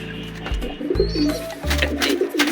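A pair of domestic pigeons cooing close by, three low, throaty coos in steady rhythm, with faint higher chirps in the background.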